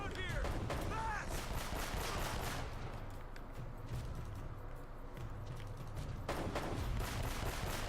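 Rapid AK rifle gunfire in the video game Uncharted: Drake's Fortune, bursts of shots crackling through the clip with busy game ambience and some voice underneath.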